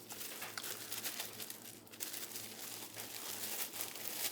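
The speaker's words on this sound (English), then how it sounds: "we're just going to crumple that up a little bit in from my bag." Paper is crumpled by hand to pack a freeze-dried meal pouch, giving close, continuous crinkling and rustling with no talk.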